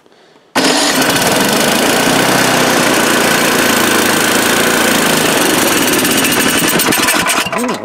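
A snowblower engine catches after being primed three times and roars to life abruptly, running loud and steady close by, then sputters near the end.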